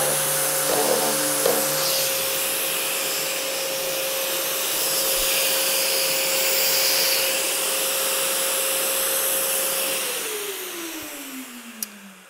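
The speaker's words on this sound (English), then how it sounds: "I hit my actual sander, hit the edge, vibrated, and you could damage your sander or damage the edge" A power sander droning steadily and loudly while sanding cabinets, with a buzzing vibration near the start as it strikes the cabinet edge. A sustained whine holds before dropping off near the end, with no talking.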